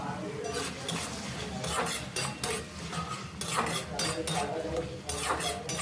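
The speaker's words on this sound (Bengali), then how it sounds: "এইভাবে অনবরত নাড়াচাড়া করে মশলাটা তৈরি করে নিতে হবে" Spice masala for a sea crab and potato curry is stirred continuously in a pan, making repeated rhythmic scraping strokes of a spoon against metal over a soft background sizzle.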